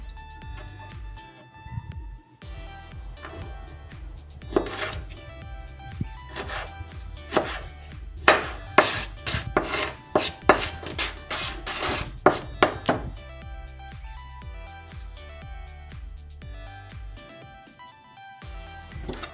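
Tiny tomatoes are sliced with a knife on a board in a long run of quick, crisp chopping strokes that speed up into a dense burst in the middle, then slow again. Soft music plays underneath.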